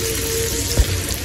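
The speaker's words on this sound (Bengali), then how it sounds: "এখন আমি দিয়ে দিব চিংড়ি মাছটা দিয়ে হালকা একটু ভাজা দিয়ে নিবো" Shrimp frying lightly in a hot pan, a steady sizzle that holds throughout at moderate loudness, with a brief low thump partway through.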